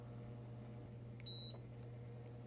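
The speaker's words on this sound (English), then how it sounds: "And we just heard it beep. That means that it's ready to go." Foil laminator heated and ready, giving one short, faint electronic beep over a quiet room hum.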